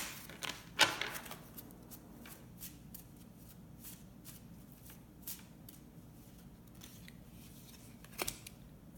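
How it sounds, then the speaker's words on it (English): A card being pulled from a crystal deck, heard as soft papery shuffling and flicking of cards with a couple of sharper snaps, faint and close in a quiet room. "we're going to pull a card from our crystal deck to see what crystal we might want to play with this week."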